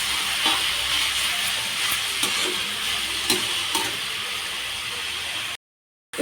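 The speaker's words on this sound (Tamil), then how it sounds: "மஷ்ரூம் நூடுல்ஸ் போட்டு நல்லா வதக்கிக்கலாம்." Mushroom noodles sauté in a hot pan with a loud, steady sizzle and occasional stirring scrapes, close up and with no speech, ending abruptly in a short silence.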